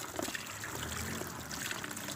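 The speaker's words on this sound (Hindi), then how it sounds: "पानी को चलाएं।" Water runs from a tap into a container with a towel placed inside, a steady trickling and splashing stream that holds level for the whole stretch with no talk over it.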